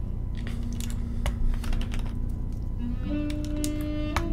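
Rapid clacky typing on a freshly built, unlubed Keycult No2 keyboard with unlubed switches and rattly plate-mount stabilizers, close and steady, with sharper rattling bottom-outs on the larger keys.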